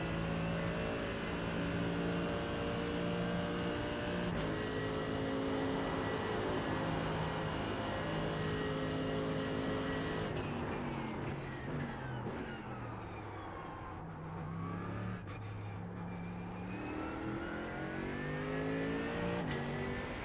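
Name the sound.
GT3 race car engine in iRacing video game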